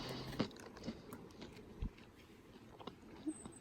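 Trail mix being eaten up close at a thru-hike camp: quiet crunchy bites and chewing, several distinct crunches spread irregularly over a soft background.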